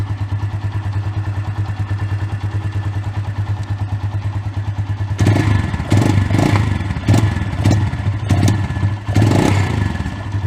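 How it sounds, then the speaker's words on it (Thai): A Honda Phantom 200 motorcycle with a well-tuned carburetor idles steadily at close range for about five seconds, then gives several sharp throttle blips that each drop quickly back to idle. "ตอนที่เรา บิดแล้วก็ปล่อยมือนะครับ ฟังเสียงรอบเครื่องดูนะครับ"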